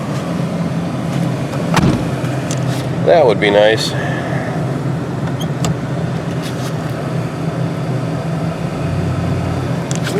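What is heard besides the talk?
Ford Crown Victoria trying to drive out of snow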